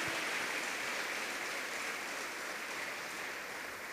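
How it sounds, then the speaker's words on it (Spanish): A church congregation claps for the Lord in a dense, steady wash of applause that fills the room from start to finish, with no voices standing out. "fuerte, fuerte las palmas para el Señor"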